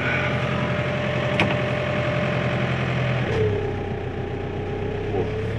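A farm vehicle engine on a snowy winter dairy farm, its steady idle rumbling throughout, with a change in pitch around the middle as the revs shift, heard close and loud with no talk.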